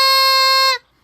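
A goose call blown with the tongue in its normal resting position gives one steady, reedy, horn-like tone that holds close and loud, then cuts off abruptly. No buzz is added.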